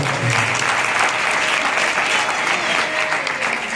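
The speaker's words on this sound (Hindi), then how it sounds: "एक बार जोरदार ताली बजाऊंगा" Loud, dense applause from a crowd at a Shree Ram Katha gathering, steady and sustained throughout with no voice over it.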